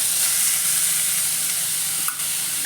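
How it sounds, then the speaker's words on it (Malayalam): Finely chopped onion dropped into hot oil gives a loud, steady sizzling hiss that fills the whole stretch, with one brief brighter spatter near the end. "അത് നമുക്ക് ഈ ചൂടായ എണ്ണയിലേക്ക് ഇട്ട് കൊടുക്കാം"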